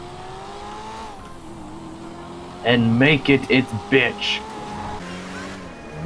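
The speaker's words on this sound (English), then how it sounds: "That's what my exhaust sounds like." A car's engine and exhaust in the video game GTA V drone steadily, then give a short series of loud, burp-like revving pops in the middle, with someone talking over the engine sound.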